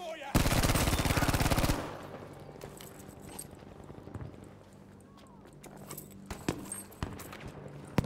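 Gunfire in the Battlefield V video game: a rapid automatic burst opens loud and close, then scattered single shots and distant gunfire follow over quieter background battle noise.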